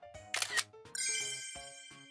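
A Samsung Galaxy A53 phone fires its camera shutter sound as a photo is taken, a short crisp click burst followed by a bright tonal chime, heard alone and close.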